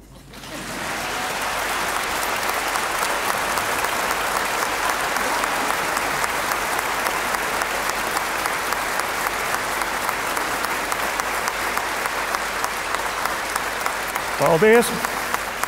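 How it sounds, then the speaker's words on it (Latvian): Concert audience applause at a festive Latvian concert, a dense, even wash of clapping from a large crowd sustained loudly throughout, with a brief spoken thank-you near the end. "Šeit scenārijā rakstīti aplausi."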